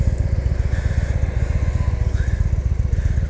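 Close, loud pulsing rumble of a Victory Highball motorcycle V-twin while riding, an even rapid beat of exhaust pulses throbbing steadily throughout with no voices.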